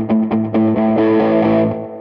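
Electric guitar palm-muted with too little hand pressure, so the distorted notes ring out fuller than a tight chug; a handful of picked notes in a loose rhythm, then a sustained ringing passage, loud and alone.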